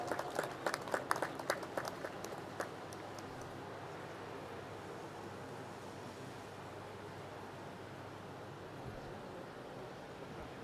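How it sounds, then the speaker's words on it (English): Applause for award achievers at a university convocation ceremony, a burst of clapping in the opening seconds that thins quickly into a steady hall or wind-like background hush. "A big round of applause for all the achievers."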